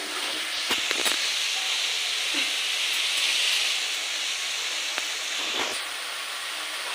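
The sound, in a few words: ground coriander and cumin spices being sautéed in a pan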